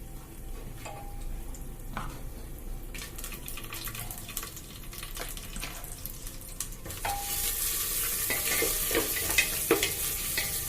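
Green chilies and ginger-garlic paste fry in hot oil for a Kerala coconut milk pulav, a steady sizzle under repeated spoon scrapes and stirring clicks that grow louder and hissier toward the end, with no talking.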